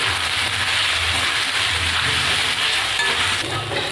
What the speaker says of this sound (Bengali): সয়াবিনটাকেও একটু ভেজে নেব।